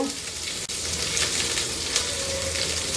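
Garlic and onion frying in a pan, a dense, even sizzle with soft crackle close by, continuous throughout with a brief tap near the start, no voices.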